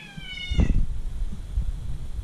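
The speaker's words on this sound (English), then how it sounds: "Oh, is that the cat?" A house cat meows once, loud and close, in a workshop during removal of a 5.3 LS engine from a truck, followed by low rumbling background noise.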